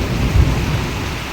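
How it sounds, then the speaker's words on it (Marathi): Rain falls in strong wind during a storm at a new house, with a low thunder rumble. The wash of rain and wind is loud and dense and fills the whole short stretch, with no voices. "आणि पाऊस लय मोठा नाहीये"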